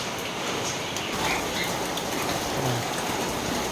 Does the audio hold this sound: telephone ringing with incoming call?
no